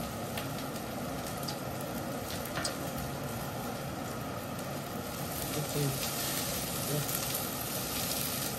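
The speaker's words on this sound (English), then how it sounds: "This is just sauteing here a little bit, and this is ready." Sugar sautéing in a pot as the base for curry chicken: a continuous hissing sizzle with a low bubbling undertone and faint background voice.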